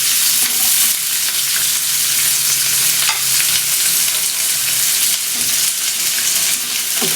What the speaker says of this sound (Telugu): ఆయిల్ వేడైన తర్వాత అందులో ఆవాలు, జీలకర్ర, కట్ చేసి పెట్టుకున్న ఉల్లిపాయ ముక్కలు వేసుకోవాలి